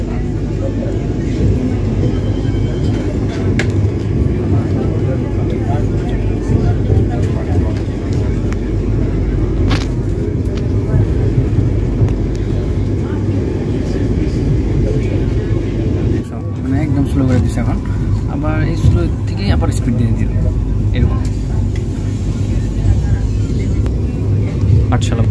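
Vande Bharat Express 22227 from Guwahati to New Bongaigaon picks up speed, a loud continuous rumble and roar of wheels and carriage running steadily, with a brief dip partway through.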